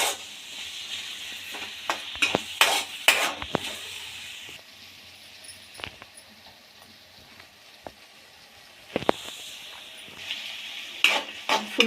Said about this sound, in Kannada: ಎರಡು ನೀಟಾಗಿ ಹಸಿ ಸ್ಮೆಲ್ ಹೋಗೋವರೆಗೂ, ಇನ್ನೊಂದು ಸ್ವಲ್ಪ ಕೆಂಪಗಾಗೋವರೆಗೂ ಹುರ್ಕೊಳ್ಳಿ